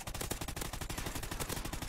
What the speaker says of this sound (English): someone's trying to shoot at me